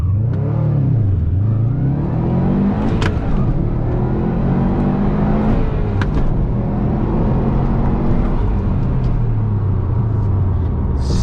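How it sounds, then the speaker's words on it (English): A 2019 Subaru STI Type RA engine revving hard with traction control off, loud and close, rising and falling in pitch across several throttle sweeps, with no talking. "rev her up"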